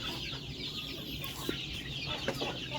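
Free-range village chickens cluck softly and intermittently nearby, with a few sharper calls over a steady outdoor background.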